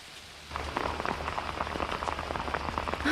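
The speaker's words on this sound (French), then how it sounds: "Toutes ces gouttes, des milliers, gouttes magiques qui disparaissent dès qu'elles touchent terre" Raindrops patter densely on a hood during a shower, starting suddenly and carrying on as a close, steady tapping with a low rumble underneath.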